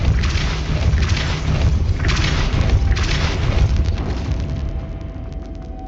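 A Depulso spell blast in Hogwarts Legacy lands as a loud, booming burst that rumbles steadily for several seconds, with no voices over it.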